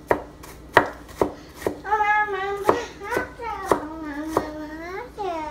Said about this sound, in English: now I'm dicing the onion